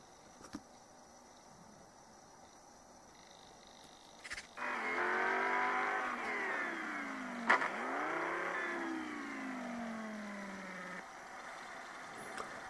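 Racing car engines in the Need for Speed No Limits video game rev up loudly after a quiet start, pitch sweeping up and down through gear changes for several seconds before cutting off.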